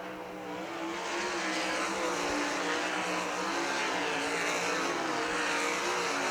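Sprint cars race around the Millstream Speedway dirt oval during a heat race, a loud, sustained roar of several engines blending together at a distance, with no voices heard.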